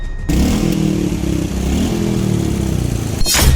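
A motorcycle engine rumbles and revs up close, steady and loud, in rain-hit city traffic in Uttarakhand, India, with other road noise and a whoosh of passing traffic at the end.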